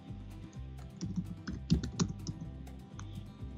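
Quick, uneven keystrokes tap on a computer keyboard as copyright text is entered in Adobe XD, close and fairly quiet, with a brief denser burst in the middle.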